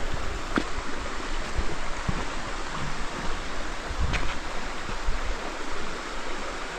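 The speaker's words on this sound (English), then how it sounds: "That's where a creek, part of the creek comes down right here." Creek water at a sandy riverside camp in Appalachia near the West Virginia–Kentucky border rushes in a constant, fairly loud broadband wash, with a few faint clicks and knocks on top.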